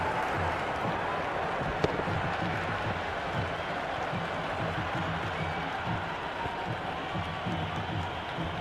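A cricket crowd in Cricket 26, during a Pakistan vs New Zealand T10 match, keeps up a steady, dense murmur and applause-like wash throughout, with one brief sharp click.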